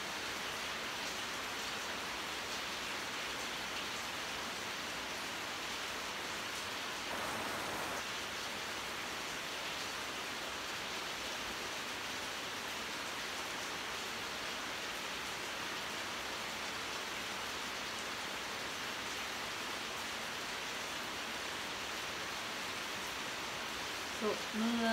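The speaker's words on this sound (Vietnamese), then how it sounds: "Trời mưa" Heavy rain pours down steadily with a dense, unbroken hiss for the whole stretch. Its intensity stays constant, with a faint voice showing near the end.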